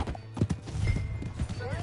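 Horse hooves clip-clopping in a video game, several quick hoof strikes in an uneven trot with a brief whinny near the end, over a low rumble and a voice speaking.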